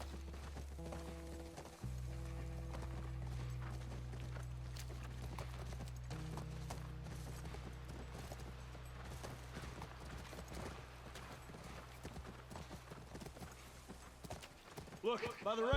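Horse hooves clip-clop steadily on the ground in The Last of Us, a post-apocalyptic video game. The hoofbeats run throughout beneath a continuous low game soundtrack and hum.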